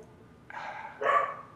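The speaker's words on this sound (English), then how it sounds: "my dog is barking in the background" A dog barks in the background, a short muffled bark followed by a louder, sharper one a half second later, faint and distant with no one speaking over it.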